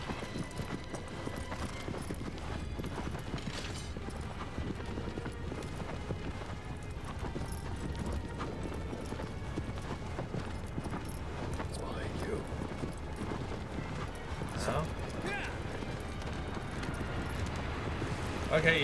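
Horse hooves clip-clop in a steady galloping rhythm in Shadow of the Colossus during a Sand Serpent fight, running continuously at moderate volume beneath game sounds.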